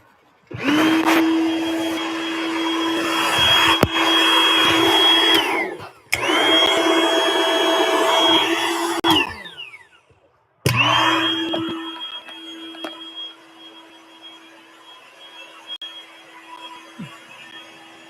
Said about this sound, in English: Get that air bed deflated.